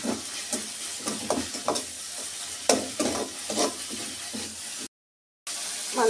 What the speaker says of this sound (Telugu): వేగనిస్తాము.